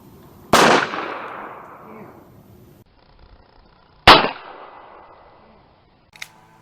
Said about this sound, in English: now let's shoot the wood